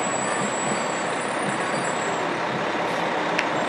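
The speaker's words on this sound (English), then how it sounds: "We also have a custom ladder truck." A custom ladder fire truck rolling in a Memorial Day parade, its steady loud engine rumble filling the street with continuous broadband noise and a brief hiss near the end.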